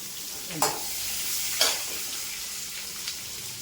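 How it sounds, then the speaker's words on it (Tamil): Onion, garlic and ginger fry in hot oil for a ridge gourd chutney, giving a steady close hiss broken by three sharp stirring scrapes, with no talking. "ஒரு வெங்காயம் கட் பண்ணி வச்சுருக்கேன் அதை போட்டுக்கிறேன் ஒரு பூண்டு ஒரு இஞ்சி"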